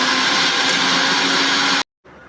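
A mixer grinder grinds roasted sesame seeds, garlic and cumin in its jar with a loud, steady whirring roar that cuts off abruptly, followed by a brief silence and a faint hum.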